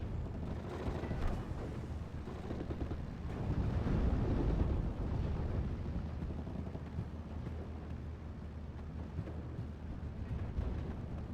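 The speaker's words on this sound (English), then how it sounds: "Going for a strafing run will be hitting the MG team." Aircraft strafing run in a World War II tactical shooter, heard as a continuous heavy roar of engine noise, gunfire and explosions, loud and dense throughout with a swell in intensity midway.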